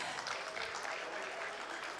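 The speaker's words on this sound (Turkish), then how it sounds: "Alkışlar gelsin böyle vətənpərvər." A crowd applauds at an indoor celebration of the Karabakh victory held in Istanbul, a dense, steady wash of clapping that stays even and moderately distant for the whole stretch, with no voices on top.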